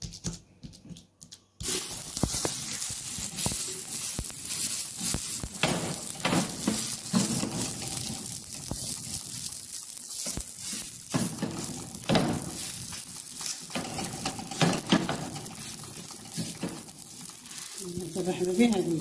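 Onion and semolina with a little salt cook in a pan over a butane gas stove, a steady close sizzle with scraping stirs throughout, while someone talks.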